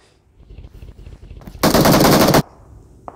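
Loud sustained machine-gun burst in PUBG Mobile, close and dense for under a second, preceded by quieter scattered game sounds and followed by a short click.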